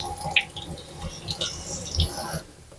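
Aquarium plant rinsed under a running tap, a soft continuous trickle of water with small splashes and drips at close range.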